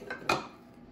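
Poppyseed almond muffin batter being mixed in a bowl produces two quick, faint clinks of a utensil against the bowl in close succession, with no voices.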